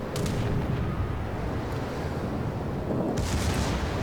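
Battleship guns fire in the naval video game World of Warships, a dense rumbling boom that fills the clip with a sharper blast near the start and another near the end.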